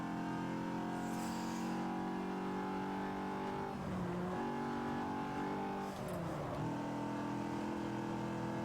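A race car engine in the racing video game Forza 7 holds a loud, steady high-pitched drone, dropping sharply at two gear shifts before climbing back to a sustained whine.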